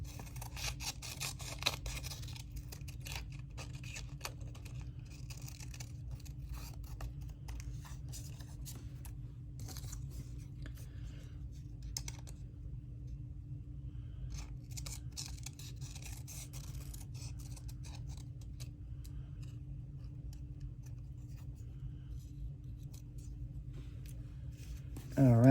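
Scissors snipping through book pages for a collage, with frequent close, quiet cuts over a low steady hum and talk in the background.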